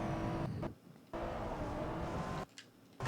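A race car in Forza Motorsport 4 roars past, with the 2009 Mercedes-Benz SL 65 AMG Black Series in the race. The engine note is steady, then cuts out briefly twice, and no one speaks.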